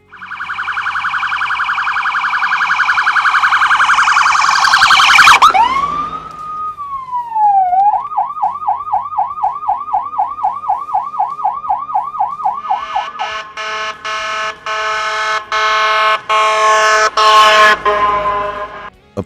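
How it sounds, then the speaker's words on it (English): A loud electronic police siren sweeps down, then switches to a rapid, pulsing yelp, followed by harsh repeated electronic air-horn blasts. "utilizing the T3, yelp, and electronic air horn modes of the siren"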